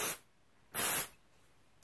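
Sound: Loma dry shampoo being sprayed onto hair

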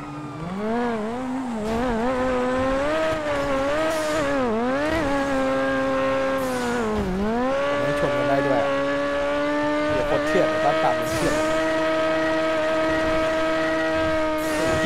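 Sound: cars and police car racing in video game GTA V

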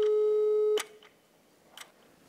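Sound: telephone ringing tone while calling someone

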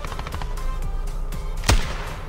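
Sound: shotgun gunfire in the video game Standoff 2

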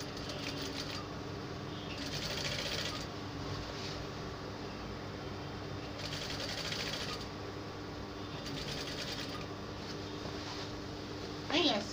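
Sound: sewing machine stitching bias binding around a dress neckline

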